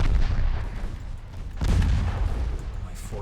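Naval guns firing in the Ultimate Admiral Dreadnoughts game, including 4-inch and 3-inch guns, give heavy booming shots: a rolling barrage at the start, a second loud burst midway, and lighter reports near the end under dense battle rumble.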